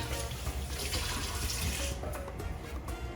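A kitchen tap runs steadily into a sink while a cook's station is washed down before chopping green onions, the broad hiss close and continuous, then thinning slightly near the end.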